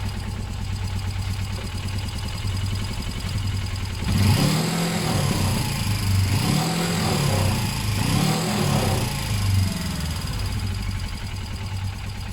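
A Suzuki GS500 motorcycle engine idles steadily, then revs up in several rising and falling surges as the handlebars are turned, fairly loud and close, with no talking.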